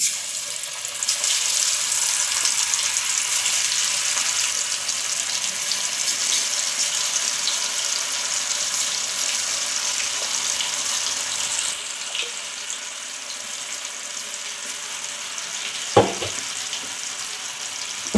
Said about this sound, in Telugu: ఆయిల్ ఎక్కువ గరం అయింది కాబట్టి ఎమ్మడే అయిపోతుంది, ఫ్రై అయిపోతున్నాయి మన ముక్కలు అయితే